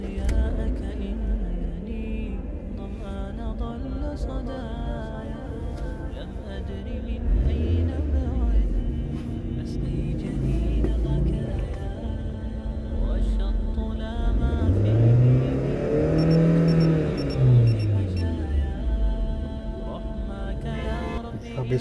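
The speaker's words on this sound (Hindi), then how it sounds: "ये एक्सेलरेशन इसमें टेस्ट कर सकते हैं, 0 to 100 आपकी गाड़ी कितनी देर में कर रही है।" A car's engine builds and revs during a 0-100 acceleration run, its pitch climbing and falling in sweeping surges. The engine stays loud and steady throughout, with the strongest rise near the end.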